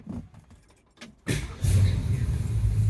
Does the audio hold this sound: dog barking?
no